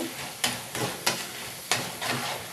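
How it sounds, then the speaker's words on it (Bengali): Okra fritters deep frying in hot oil crackle and hiss up close, with a handful of sharp spatter bursts breaking through a continuous bubbling sizzle. "দেখুন ঢেঁড়সের ফুলঝুরিটা কি সুন্দর ভাজা হয়েছে"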